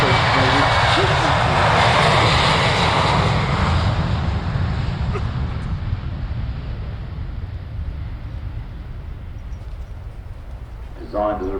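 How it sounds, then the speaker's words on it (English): A Boeing P-8 Poseidon twin-engine maritime surveillance aircraft takes off at the Farnborough airshow, a loud roaring jet noise that gradually fades into the distance while a commentator talks over it. "the P-8 Poseidon. Twin-engine maritime surveillance aircraft being displayed for us by Boeing"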